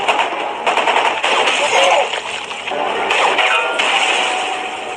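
Loud gunfire from a sniper attack on Iraqi soldiers crackles in rapid, dense bursts with harsh noisy cracks, as a sound effect under a narrating voice.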